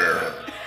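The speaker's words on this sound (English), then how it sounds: "You make yourself burp." A person forces out a burp during a burping challenge, a single short throaty burst heard close up.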